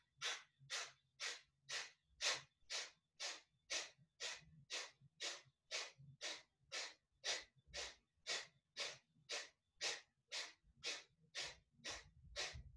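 Steady, rhythmic breathing through both nostrils during a hatha yoga practice, about twenty-five even breath cycles in a row, close and clear with no talking.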